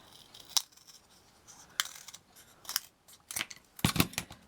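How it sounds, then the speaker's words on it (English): Scissors cutting down a reused piece of material for a miniature flour mill model: several separate crisp snips spaced across a few seconds, close and fairly quiet, with no talking. "It's a piece I've used somewhere else, which I'm going to cut down."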